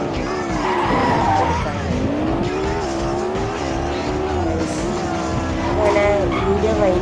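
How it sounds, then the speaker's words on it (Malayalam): Video-game car drifting into a parking slot in an extreme racing and off-road game, with loud, sustained tire squeal and engine roar filling the whole stretch, the pitch sliding up and down as the car slides. "ഇവിടെ ഈ പാർക്കിംഗ് സ്ലോട്ടിൽ നമുക്കങ്ങ് ഡ്രിഫ്റ്റ് ചെയ്ത് പാർക്കിംഗ് സ്ലോട്ടിൽ കയറ്റാൻ നോക്കിയാണ്."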